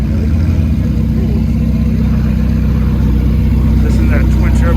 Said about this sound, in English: This is that twin turbo V8 just idling.